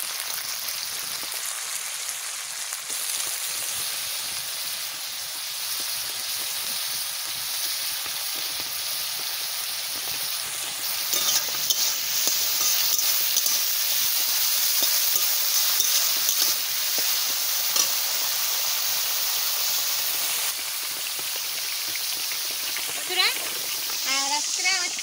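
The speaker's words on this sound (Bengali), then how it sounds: "তেল গরম হয়ে গেছে, আমি এই সবজিটা দিয়ে দিচ্ছি।" Vegetables hit hot white oil in a pan and sizzle steadily with a dense, continuous hiss, with scraping and stirring throughout and a few sharper clinks near the end; a voice speaks faintly at times.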